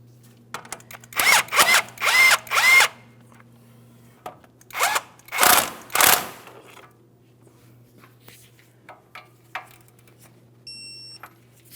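A power tool drives the outer tie rod end mounting nut on a 2007–2014 GMC Sierra 2500 HD front suspension, giving several loud close-up whirring bursts in two groups, followed by faint clicks.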